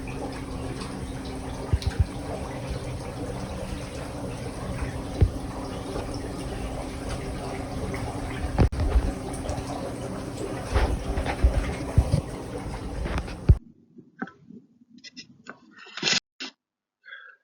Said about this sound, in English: This will be Sky Farm A lift station after 1 month of continuous aeration